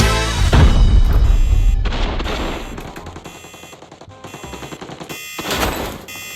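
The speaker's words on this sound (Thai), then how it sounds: "มีเสียงยิงฝั่งโน้นนะครับผม ถ้าได้ยินเสียงปืนแบบนี้ก็จำทิศทางไว้ดีๆนะครับ" Bursts of video game gunfire and booms ring out, loud at first, then lighter rapid shots, and another heavy blast near the end.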